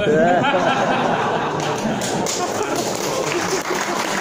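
Audience applause at a Maulid Nabi commemoration gathering, sustained and loud, a dense steady clatter of many hands lasting the whole stretch, with a voice briefly audible at the start.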